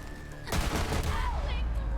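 Explosive pistol fire from the Short Fuse weapon in the video game Borderlands 3, a sudden loud burst of gunfire and blasts that rumble on under continuing game effects, with no talk in between.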